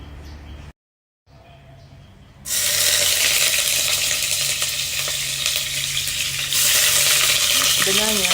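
Garlic, shallots and tofu hitting a hot pan: a brief quiet gap, then a loud, dense, close sizzle that holds steady with light stirring noises, and no talk.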